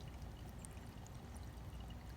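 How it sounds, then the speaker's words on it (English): Poposoap solar birdbath fountain keeping the water in a bird bath moving, a quiet, continuous close trickle and splash that runs steadily throughout with no voices. "Keeps the water moving, doesn't throw water out of my bird bath, nice and quiet"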